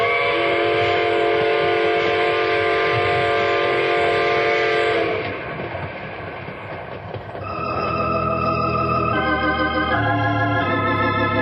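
A loud, sustained train whistle blows for several seconds, then a brief lull, followed by further whistle blasts over the rumble of a moving train.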